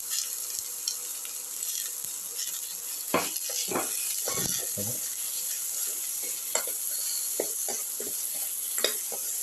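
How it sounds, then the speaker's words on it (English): Cucumber pieces and potato in a casserole being mixed with salt paste, a soft continuous sizzle with scattered scraping and stirring clinks from a utensil against the pan. "Salt and mix thoroughly."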